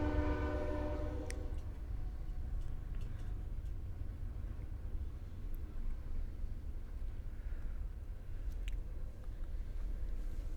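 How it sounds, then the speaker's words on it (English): A train passes at a distance, its horn sounding briefly at the start before a steady low rolling rumble continues, fairly faint and with no talk. "Train."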